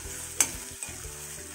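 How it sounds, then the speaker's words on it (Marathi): Ginger-garlic paste with a pinch of asafoetida sautéing in a pan, a quiet steady sizzle with a sharp utensil tap and a second softer scrape as it is stirred. "1 चमचा आलं लसूणची पेस्ट आणि किंचित हिंग टाकायचं आहे। छान परतवून घ्यायचं आहे"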